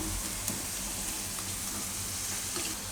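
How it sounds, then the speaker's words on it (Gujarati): Garlic cooking in melted butter in a pan over a raised gas flame, a steady, even sizzle that hisses continuously at close range, alone without voices. "આને થોડીક વાર આમાં પાકવા દેવું આપણે માખણમાં લસણને"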